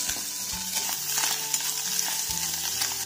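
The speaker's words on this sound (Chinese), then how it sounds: "把香菇一起放进去翻炒炒香" Minced pork with mushrooms and corn stir-fried in a wok makes a loud, constant sizzle broken by repeated scraping and tossing strokes of the spatula, heard close and with no speech.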